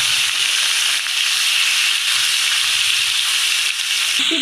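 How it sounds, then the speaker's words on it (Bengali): Hilsa fish pieces fry lightly in oil in a pan, giving a loud, steady, close sizzle and hiss that continues unbroken throughout with no talking. "ইলিশ মাছ খুব একটা বেশি ভাজে না, তাহলে টেস্টটা ভালো লাগে না"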